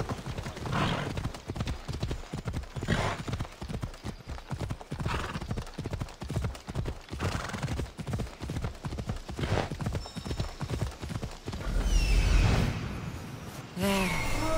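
Rhythmic hoofbeats of a horse galloping in Assassin's Creed Odyssey, steady thudding clip-clop under game ambience with a neigh and a whoosh near the end.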